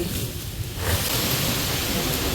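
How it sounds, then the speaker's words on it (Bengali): Strong wind roars in a steady broadband rush around a village yard with mango trees, getting louder after a moment and continuing without a break. "অনেক জোরে বাতাস ছাড়ছে"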